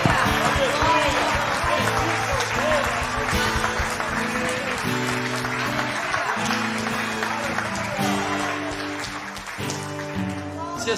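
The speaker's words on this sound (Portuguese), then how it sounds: "Aplaude e dê glória a Deus." A church congregation at a worship service claps along amid loud music and voices, the applause a dense patter under sustained chords and singing.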